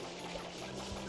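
Water sprays in a steady, dense hiss from the FLUDD water pack in Super Mario Sunshine, a short continuous burst with no talk over it.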